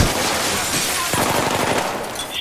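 Rapid Battlefield 3 co-op mission gunfire, dense automatic bursts crackling continuously and loudly with a voice talking faintly underneath.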